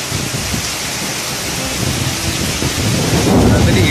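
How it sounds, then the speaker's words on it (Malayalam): Heavy steady rain pours down in a dense, constant roar while low thunder rumbles through it, building toward the end; no voices are heard. "അതിന് ഇടി വെട്ടുന്നുണ്ട്, ഇടി വെട്ടുന്നുണ്ട്."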